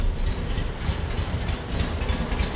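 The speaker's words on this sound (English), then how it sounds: "Love the sound of a 25 horse through a stock exhaust" A stock-exhaust 25 hp engine in a 1952 Volkswagen Beetle runs steadily just after starting, giving a close, continuous low rumble with no voices.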